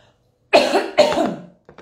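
Two harsh coughs in quick succession, close and loud, followed by a faint short breath.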